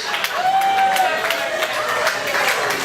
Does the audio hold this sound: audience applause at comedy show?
yes